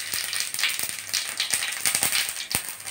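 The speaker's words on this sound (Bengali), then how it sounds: "কড়া বসিয়ে দিয়েছি, তেল গরম হয়ে গেছে, এই যে সাদা জিরে ফোড়ন দিচ্ছি।" White cumin seeds crackle in hot oil in a wok, with a dense run of sharp, close spits and pops over a steady hiss. No one speaks.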